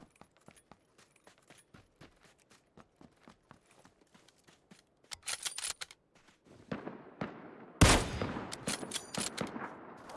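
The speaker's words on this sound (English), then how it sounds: "Figured I'd take a little shot at that guy," Gunfire in the shooter game PUBG, starting as a long run of faint, evenly spaced single shots, then giving way to louder, denser bursts of rapid fire and a sharp close blast near the end, with no talking.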